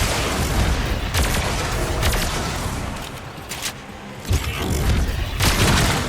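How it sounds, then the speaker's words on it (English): Weapon fire in Warframe blasting a hive, heavy booming shots and explosive bursts layered over dense battle noise, loud and continuous with several sharper impacts. "Destroy it with weapon fire."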